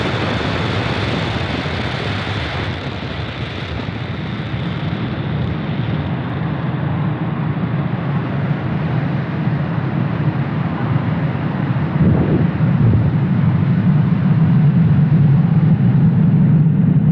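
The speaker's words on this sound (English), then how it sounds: "Falcon 9 has successfully lifted off from Space Launch Complex 40 from the Cape" SpaceX Falcon 9 rocket climbing away from Space Launch Complex 40 at Cape Canaveral on a Starlink launch, a sustained, loud, crackling roar that holds steady and swells slightly toward the end, with no voices over it.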